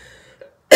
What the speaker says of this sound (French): je vais peut-être tousser un peu